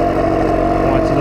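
A moped engine runs close and loud, a steady low drone with a slightly uneven, rumbling pulse.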